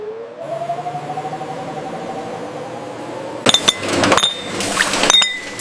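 Glass jars in a tomato processing plant clink and rattle during transport testing, a sharp burst of clinks followed by a second cluster over machine hum and a gliding tone.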